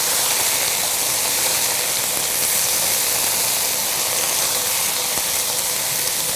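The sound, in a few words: roasted red peppers sizzling in a hot pan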